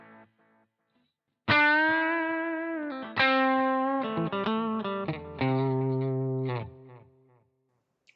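An electric guitar played through a Boss GT-1 multi-effects unit on an overdriven preamp setting with delay and reverb rings out in a few sustained, distorted chords and short phrases, each decaying into ambient echo, with no voices.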